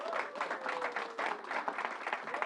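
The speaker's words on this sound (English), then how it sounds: "Let's give the Assembly Member another round of applause." An audience at a church vaccination event in New York gives an Assembly Member another round of applause, heard as a dense, steady stretch of clapping from a crowd at moderate distance, with a faint tonal sound running underneath.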